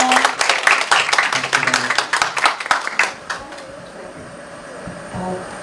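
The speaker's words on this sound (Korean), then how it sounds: "좋은 이야기를 들었다는 생각에 박수 보내드리고 싶습니다" Audience applauds after a public renovation-school presentation, a few seconds of close, dense clapping that thins out and stops, leaving quiet room noise.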